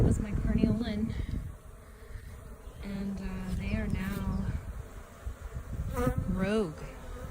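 Honeybees buzz around backyard hives, including a Carniolan colony and a small swarm, a steady insect drone beneath speech with a person talking over much of it.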